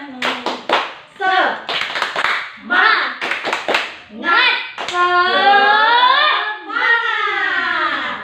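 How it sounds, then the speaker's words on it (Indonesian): A group of children joins in a rhythmic spirit-clapping chant, sharp bursts of clapping alternating with their chanted voices. "Kita tepuk semangat dulu yuk."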